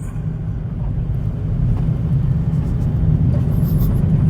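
A 2022 Chevrolet Camaro ZL1 1LE with a manual gearbox pulls away and gathers speed, its deep engine rumble heard from inside the car and growing steadily louder.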